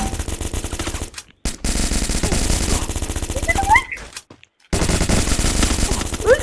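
Rapid Uzi submachine gun fire in the Free Fire video game rattles loudly in long sustained bursts, broken by two short pauses before the firing resumes.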